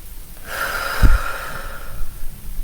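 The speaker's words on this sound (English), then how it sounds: "just take a deep breath into that" One deep breath, a slow airy inhale that swells and fades over a couple of seconds, with a brief nasal snort in the middle, close to the mic and with no talking.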